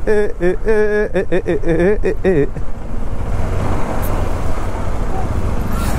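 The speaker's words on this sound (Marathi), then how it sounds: "इथं पण ट्रॅफिक तिथं पण ट्रॅफिक" Dense road traffic roars steadily during a motorbike ride from Mumbai to Khed, with a loud continuous engine and wind rush and a burst of horn-like tones at the start.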